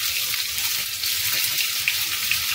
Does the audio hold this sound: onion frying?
yes